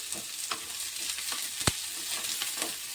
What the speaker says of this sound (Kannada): ಈರುಳ್ಳಿ ಕಲರ್ ಚೇಂಜ್ ಆಗುವಾಗ ಚೆನ್ನಾಗಿ ಎಣ್ಣೆಗೆ ಫ್ರೈ ಮಾಡ್ಕೋಬೇಕು ರೀ